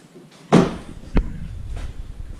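A Chevy Impala car door thuds shut with a solid slam, followed by a lighter metallic click a moment later, close by and otherwise quiet.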